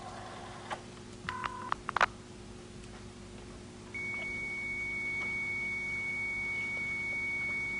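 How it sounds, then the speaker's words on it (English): Computer modem tones over a telephone line: a few short dialing beeps and tones, then a steady high carrier whistle that holds to the end, over a low hum of line noise. "that's the sound of the computer at the other end, talking over the telephone"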